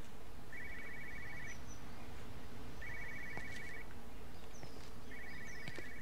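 A telephone rings three times in Everybody's Gone to the Rapture, each burst about a second long and separated by pauses, over a low ambient hum with faint bird chirps.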